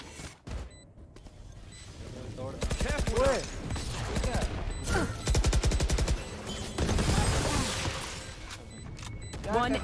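Valorant gunfire arriving in bursts of rapid, sharp shots, some close and loud, with quieter spells between them and voices talking in Hindi.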